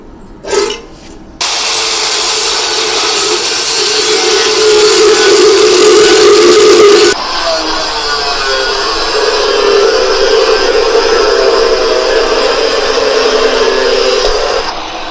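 Metal being cut at an angle with a power tool to build a rocket stove, a loud steady grinding whine that starts after a brief knock, runs continuously and shifts in tone partway through.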